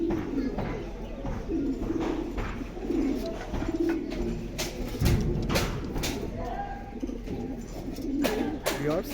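Racing pigeons from a club loft at a breeding farm coo repeatedly in throaty rolling calls, close by, while someone talks over them.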